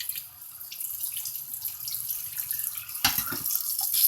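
Tap water running steadily into a kitchen sink as pickles are rinsed, a soft continuous splash with a brief louder gush near the end.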